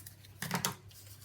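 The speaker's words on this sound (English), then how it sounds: "I'm going to cut that off" A quick cut through material for a hardback memory book cover, a brief close snipping and crisp rustle lasting about half a second over a faint background hum.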